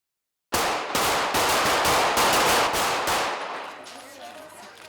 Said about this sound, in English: policemen C, D, and E, who fired at the runners throughout